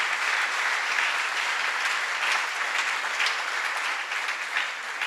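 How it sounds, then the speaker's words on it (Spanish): An audience applauds loudly and steadily at a Spanish-language church service honoring a former gangster turned pastor, a dense, sustained wash of clapping with no pauses from start to finish. "Denle un fuerte aplauso al Señor Jesucristo."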